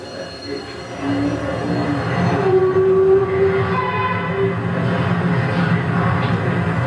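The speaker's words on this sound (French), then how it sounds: "pour laisser passer une draisine, ou encore la navette quotidienne qui relie cette ancienne gare de triage à la voie principale Kinshasa-Matadi" A daily rail shuttle train runs on a line linking an old marshalling yard to the Kinshasa–Matadi main line, a loud rumbling passage with a sustained horn tone over it.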